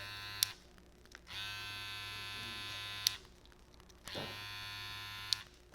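Babyliss FX hair clippers switched on and off repeatedly: a moderate electric buzzing hum running in two stretches of about two seconds each, with sharp clicks at the switch and quiet gaps between.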